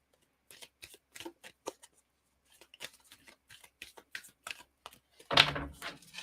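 Magic of a Unicorn Oracle cards shuffled by hand: a run of crisp, separate riffling flicks and taps, a short pause, then more rapid card flutter ending in a louder, fuller burst of shuffling close to the mic.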